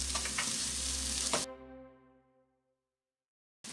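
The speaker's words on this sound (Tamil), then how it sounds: "3 minutes மட்டும் வதக்கினா போதும்" Grated coconut sautés with urad dal and curry leaves in a hot pan, giving a close sizzle and stir for about a second and a half before cutting off to a fading tone and then near silence.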